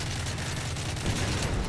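Gunfire in the Modern Warfare 3 video game: a dense, harsh burst of rapid shots crackles steadily and grows slightly heavier toward the end, with no voices over it.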